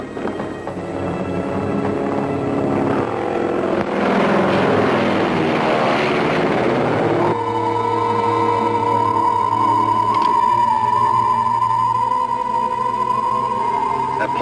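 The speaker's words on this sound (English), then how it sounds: "That plane's headed this way." A propeller plane drones steadily overhead, a broad rushing roar that settles into a sustained, even hum with a strong engine tone.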